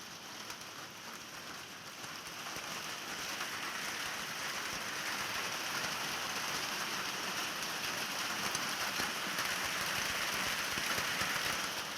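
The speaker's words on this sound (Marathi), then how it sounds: "अवकाळी पावसासह गारांनी कराड तालुक्याला झोडपलेलं आहे." Unseasonal rain with hail pours down in Karad taluka, making a steady, dense hiss of drops hitting surfaces that grows slightly heavier over time, with no voices.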